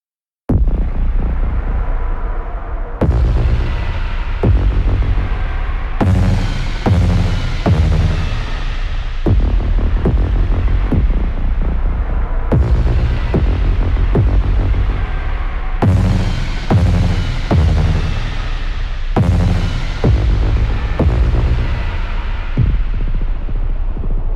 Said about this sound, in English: This one's called Synth Hits Solar Field.